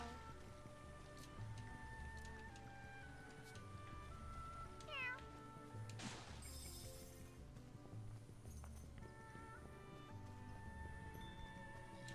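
A cat meows in the video game The Adventures of Elliot, a few faint mews over continuous game music and soft rain-like ambience, the calls brief and scattered through the scene.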